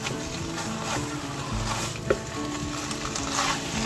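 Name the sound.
stirring macaroni and spinach simmering in a pan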